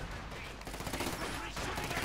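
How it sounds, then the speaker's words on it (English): A short rattling volley of gunfire from FT-42 units in the game Company of Heroes 2, rapid overlapping shots heard under a mixed battle soundscape, fairly faint overall. "FT-42s firing a volley of bullets, quite unlike anything else."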